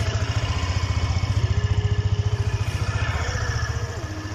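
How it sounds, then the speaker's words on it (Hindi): A Hero Pleasure+ Xtech scooter engine idles close by with a steady, rapid low putter and a slight wavering in pitch partway through, heard alone without talk. "यहाँ पे आप इसका जो इंजन का जो आवाज़ है वो आप सुन सकते हो"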